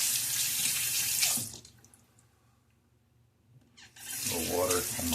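Tap water runs loudly into a sink, cuts off for a couple of seconds of near quiet, then resumes with splashing as water is scooped up onto a face during a wet shave.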